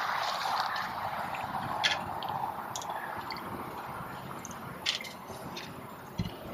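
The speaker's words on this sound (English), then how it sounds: "if you're quiet, you can hear the dripping" Water drips through a Berkey travel water filter, a few faint, sparse drops landing quietly against a steady low background hiss in a quiet room.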